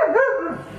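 A pet dog that has barged into a room gives one short, close yip-like bark indoors, sharp and brief.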